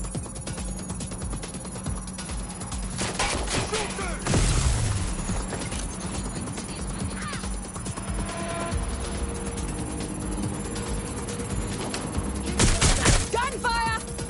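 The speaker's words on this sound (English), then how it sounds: "Gunfire! I need cover!" Gunfire in a video game shoot-out, with bursts and booms rising around 4.5 and 13 seconds over a constant busy game background while a player shouts and talks throughout.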